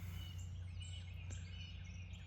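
Several birds chirp and sing at dawn near an off-grid cabin build on rural land, with light, steady calls at moderate distance over a constant low background hum and no talking.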